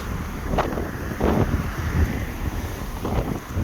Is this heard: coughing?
no